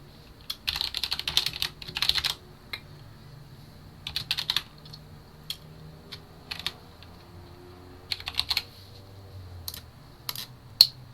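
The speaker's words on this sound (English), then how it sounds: "I'm just going to type it in." Bursts of fast typing on a computer keyboard while a workspace name is entered for a Perforce and Unreal Engine setup, with clusters of keystrokes separated by pauses and a few isolated taps over a low background hum.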